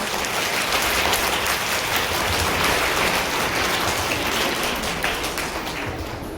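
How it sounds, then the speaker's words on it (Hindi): An audience claps loudly for Green House dancers at a performance event, a dense continuous patter of many hands that holds steady and then tapers slightly at the end, with no talking. "जोरदार तालियां इन ग्रीन हाउस के कलाकारों के"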